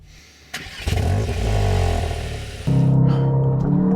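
Cupra Leon hot hatch doing a launch-control start, the engine revs up sharply, holds a loud strained roar as the car pulls away, then a gear change brings a brief dip and a deeper, louder surge.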